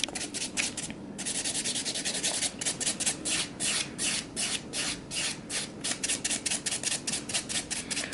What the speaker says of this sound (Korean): 버퍼로 샌딩 작업 해주겠습니다